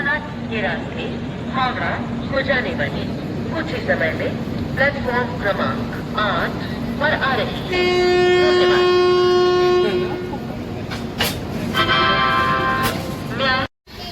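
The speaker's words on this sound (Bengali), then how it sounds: "এই জাস্ট আমরা বেনারস স্টেশনে ঢুকলাম।" A long-distance express train pulls into Benares station, with a loud sustained horn blast in the middle over rumbling carriages and constant talk nearby.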